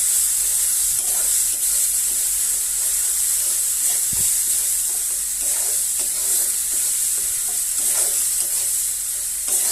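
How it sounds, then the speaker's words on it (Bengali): Cumin powder and ginger sizzle and fry in a hot wok while being stirred, giving a steady close hiss with scattered scraping strokes throughout. "এবার আমি এটাকে নেড়ে নিচ্ছি।"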